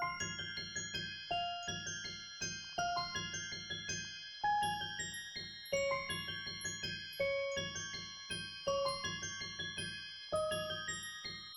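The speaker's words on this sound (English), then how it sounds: "Next up is what I would say is the main sound towards the melody, which is Neytiri keys" Bright bell-like synth keys from the Vulcan demo bank's Neytiri preset play a dark, rhythmic melody of short plucked notes over sustained tones, alone and fairly close, in a loop built for a Future and Lil Baby style beat.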